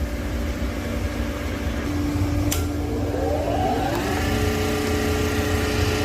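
A surface grinder with its fine feed set to 1.5 thou grinds along a metal workpiece, a steady, loud, continuous whine and rumble with a rising tonal sweep partway through and no talking.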